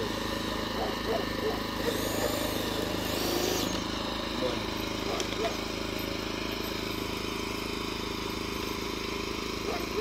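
A small petrol generator running low on fuel drones steadily and evenly throughout, close by, with faint voices and a brief squeak over the hum.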